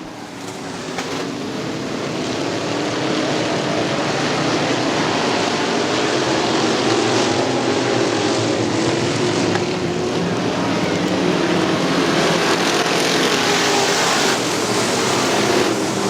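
Engine roar from IMCA modified race cars on the final lap at Crystal Motor Speedway, a dense, steady wall of sound that holds loud and continuous, with no voices over it.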